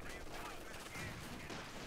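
Light machine gun fire in Company of Heroes 2, a steady dense rattle of automatic shots in the battlefield din, fairly distant and continuous for the whole stretch.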